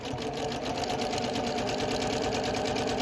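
A sewing machine running a satin stitch on a quilting appliqué hums in a fast, even, continuous rhythm, close and steady from start to finish with no talk.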